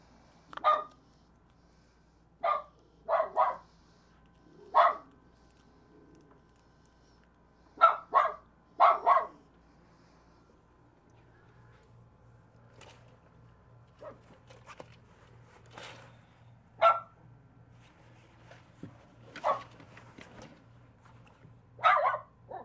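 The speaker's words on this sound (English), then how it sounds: "Leia, come get your dog" A dog barks indoors in short, clear bursts of one to three sharp barks, spread irregularly across a quiet room with a faint low hum beneath.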